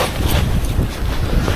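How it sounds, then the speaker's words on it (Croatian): Strong wind roars across a snowy lake in Sweden during winter fishing, a loud, close, gusty rumble battering the microphone throughout. "vjetar"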